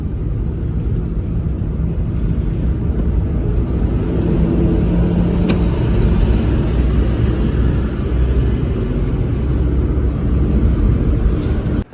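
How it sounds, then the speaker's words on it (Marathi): A car travelling a badly broken stretch of the Mumbai to Shirdi road produces a loud, unbroken low rumble of road and engine noise inside the cabin, with no talking. "अडकन आवाज येतोय गाडीचा रोडच खराब आहे"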